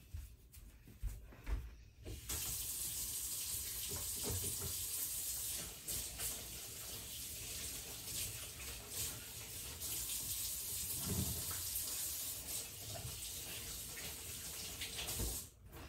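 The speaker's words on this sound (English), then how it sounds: "Let me go wash my hands." Water runs steadily from a kitchen tap for a handwashing, a continuous close hiss that starts after a brief quiet moment and carries on with small splashes and shifts in the flow.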